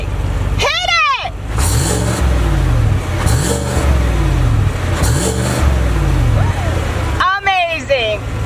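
A 2020 Cadillac Escalade Platinum's 6.2-liter V8 revs in three repeated bursts, each rising and falling over a deep idle rumble, with a couple of squeaking chirps at the start and end.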